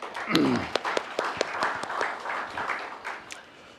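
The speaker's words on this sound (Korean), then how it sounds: "김진영 부모연대 회장께 다시 한번 감사의 박수 보내주십시오" An audience at a policy forum claps in thanks. The applause is moderate and fairly distant, with scattered claps that swell briefly and then thin out, and a voice sounds near the start.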